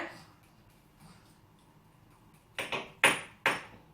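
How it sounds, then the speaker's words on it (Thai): At a family breakfast table, after quiet background, someone knocks loudly on a hard object four times in quick, uneven succession, each knock sharp and ringing. "อย่าเคาะมันเสียงดัง"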